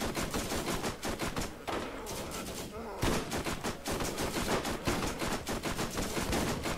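Rapid, sustained automatic turret gunfire from the video game Borderlands, dense bursts of shots rattling almost continuously at close range with a brief lull midway before resuming.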